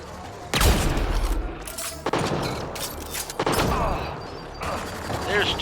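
Turret gunfire in the video game Mass Effect: Andromeda, loud bursts of firing and impacts with booming hits, coming in several waves across the scene, dense and close.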